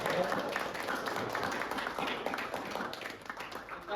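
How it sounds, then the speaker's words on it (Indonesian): A room full of people claps together in sustained, moderately faint applause lasting several seconds. "Tepuk tangan untuk kita semuanya ya"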